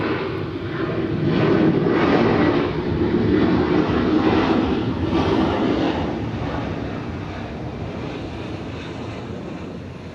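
Delta airliner arriving at Atlanta airport on a flight from Columbus, Ohio, a loud steady jet engine roar swelling in the first seconds then easing off gradually as the aircraft passes and recedes.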